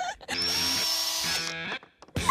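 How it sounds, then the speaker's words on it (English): A power drill whines steadily as it bores into a melon, the motor tone running for about a second, dipping briefly, then resuming before cutting off, loud and close with no talk over it. "I found a melon. We could drill it."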